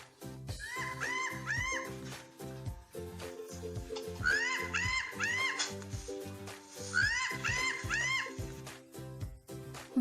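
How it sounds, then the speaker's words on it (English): Animal calls repeat in three bursts of rising, hooting whoops, clear and fairly loud over a busy layered background, matching a monkey whooping. "This is the sound of a monkey."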